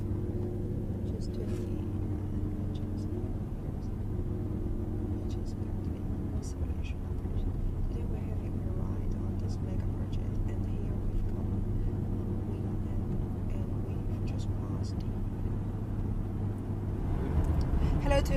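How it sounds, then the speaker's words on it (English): Car riding across the Hong Kong-Zhuhai-Macau Bridge, a long sea crossing: a steady, loud low engine and road rumble heard from inside the vehicle for the whole stretch, with some noise rising near the end. "Today we're having a ride on the Hong Kong-Zhuhai-Macau Bridge, the longest man-made sea crossing in the world"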